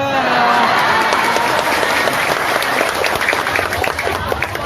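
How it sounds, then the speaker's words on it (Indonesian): An audience at an Isra Mi'raj religious gathering breaks into loud, steady applause during a sermon, filling the clip and thinning slightly toward the end. "Baru malam ini saya ceramah pakai tepuk tangan"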